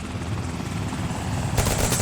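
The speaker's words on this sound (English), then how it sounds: "He called in a helicopter?" Helicopter in a TV drama scene, a rapid rotor thump that grows louder with a sharp burst of noise near the end, brief and mid-distance.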